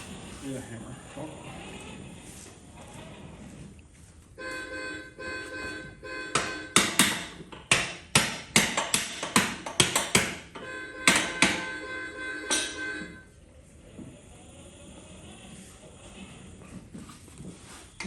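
A hammer strikes a worn-out mower tire mounted on a tire changer, making a rapid run of a dozen or so sharp metallic whacks in the middle of the stretch, with talk before and after.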